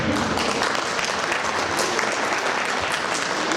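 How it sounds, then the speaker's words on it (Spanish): Delegates at a union academic congress give a speaker a round of applause, a continuous, even roar of many hands clapping in a hall, holding steady for the whole stretch. "Un aplauso para él, por favor."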